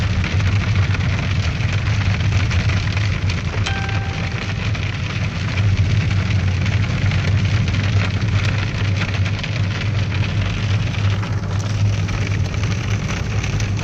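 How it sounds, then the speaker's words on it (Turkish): Steady pelting of walnut-sized hail on a car's metal and glass, heard from inside the car, a dense continuous patter with a low rumble underneath. "Gördüğünüz gibi buz yağmur."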